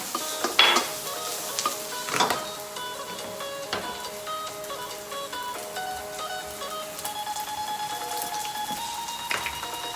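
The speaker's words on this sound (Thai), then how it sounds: "เจียวกระเทียมให้หอมค่ะ" Garlic fries in a small amount of oil in a pan, a steady sizzle carrying on throughout, with a few clinks of a utensil stirring against the pan near the start and no talk.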